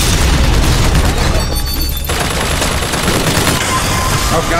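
Heavy, continuous gunfire and booming blasts from a Bioshock Infinite firefight, loud and dense throughout with a brief lull midway.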